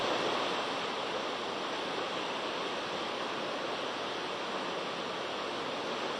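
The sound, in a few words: river water rising at Godaghat after dam discharge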